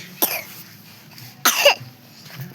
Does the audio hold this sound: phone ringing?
no